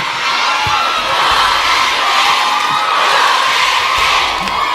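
A large crowd at a political rally shouts and chants, a dense, loud roar of many voices that stays constant throughout.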